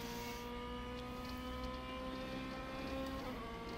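Race car engine and tyre noise from an rFactor 2 DTM race at Brands Hatch, a steady sustained drone with harmonic whine running throughout, loud and continuous with no talk.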